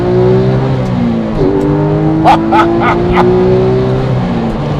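A Porsche 911 GT3 RS 4.0 with a lightweight flywheel idles with a steady low drone, then a few quick sharp blips of revving rise and fall, close by.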